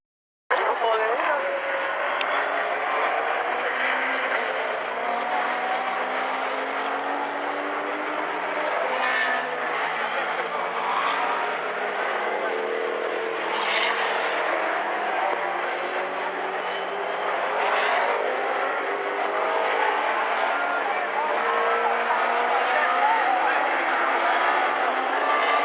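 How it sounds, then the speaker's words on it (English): Saloon and modsports race cars lapping Silverstone, including a Ford Capri, with a continuous engine roar from several cars passing at a distance under a commentator's voice. "There goes the Jägermeister Capri, an iconic motorsport livery, that one, the ex-Kenny."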